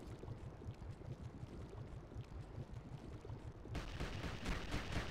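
Rapid bursts of bomb explosions in the Lego Batman video game, crackling and thudding in quick succession, growing louder and brighter near the end.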